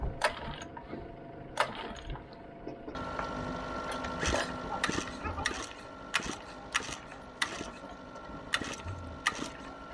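An outboard motor, with a bucket set under it, is cranked over and over without starting: rattling, ratcheting mechanical pulls with sharp clicks, close by, continuing throughout.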